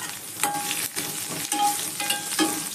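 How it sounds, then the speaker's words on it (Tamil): Curry leaves crackle and sizzle sharply in hot oil, a loud continuous spitting hiss with a few bursts, close up and without any talking. "இந்த மாதிரி தாளிக்கும் போதே கருவேப்பிலையை எப்பயுமே ஆட் பண்ணுங்க"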